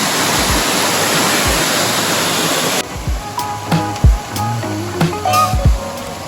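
A loud, dense rush of a Carpathian mountain waterfall fills the first half, then cuts away to quieter surroundings with a few low thumps and faint sounds.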